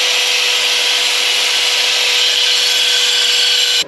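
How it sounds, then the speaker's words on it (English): A small belt grinder sands a steel exhaust pipe adapter for a 1955 Buick Special, a loud continuous abrasive hiss with a steady motor whine that stops abruptly at the end. "Let's go run this thing through the sander, the little belt grinder thing, and see what we can do about this adapter."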